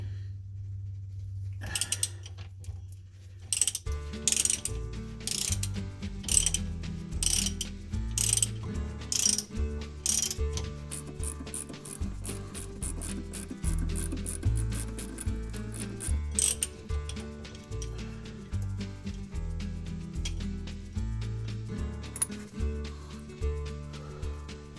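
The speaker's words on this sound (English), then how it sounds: "it's just a matter of unscrewing that bolt from there" Close, rapid clicking of a ratchet wrench as a bolt is unscrewed on the power steering control valve of a 1977 C3 Corvette, working in repeated bursts with steady mechanical rattling throughout.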